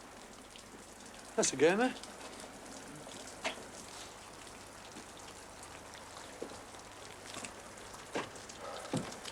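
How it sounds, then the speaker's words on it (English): Steady light rain falling outdoors, a soft continuous hiss with scattered drops, while someone speaks briefly nearby and a few other faint sounds come through. "Rain's wet, innit?"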